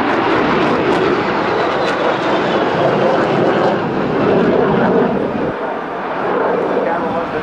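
Military jet aircraft roar loudly and continuously during a flyby at the 2008 NAS Oceana air show, with the engine noise dominating throughout as people talk beneath it.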